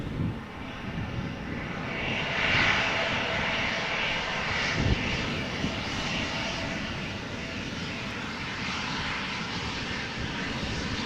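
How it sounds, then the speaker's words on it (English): An Embraer 175 jet outbound to Bremen from Amsterdam Schiphol makes a continuous, steady engine roar that swells slightly midway and stays loud throughout. "Here we have an Embraer 175 outbound to Bremen."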